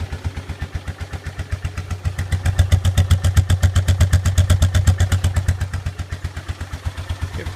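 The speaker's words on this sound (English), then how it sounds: "Quad's just warming up. It's pretty cold morning here, but yeah, it sounds better as it warms up." A 2001 Polaris Trailboss 325 quad idles on a cold morning while warming up, its single engine putting out a steady, fast, even loping thump that is loud, close and alone, with a slight swell partway through.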